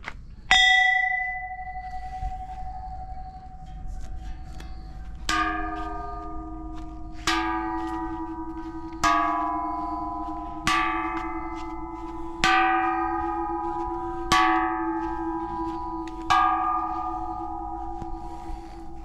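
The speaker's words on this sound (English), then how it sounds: "we've got our bells" Large temple bells in Mae Sariang, Thailand, are struck with a hammer one at a time, each deep ringing tone swelling and lingering before the next hit, about eight strikes at a slow, steady pace.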